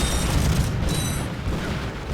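A deep, rumbling explosion from the Ratchet & Clank video game, with a heavy low boom that holds steady before easing off slightly.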